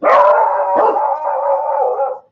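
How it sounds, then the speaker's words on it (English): Household dogs bark sharply, then break into a loud, close, sustained howl lasting about two seconds. "Yeah, the dogs are nuts."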